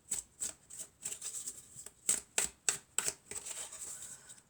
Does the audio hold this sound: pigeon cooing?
no